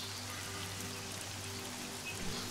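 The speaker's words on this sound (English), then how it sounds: "It has not stopped raining since the day we arrived" Steady rain pattering on surfaces in a village in spring, a continuous soft hiss with scattered drops and a low hum beneath, no voices.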